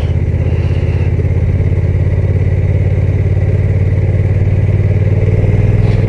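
A Honda NT1100 DCT motorcycle engine rumbles steadily at low revs as it drops through gears by itself under braking, close and loud with a constant clattering pulse and no talking.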